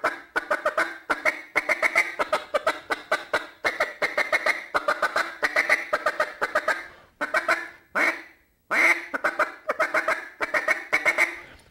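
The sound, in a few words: duck call chatter imitating ducks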